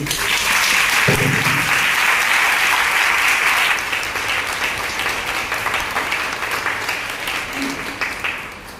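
A Good Friday church congregation claps loudly and steadily in a dense wave of applause that fades a little toward the end, with a voice briefly audible beneath it.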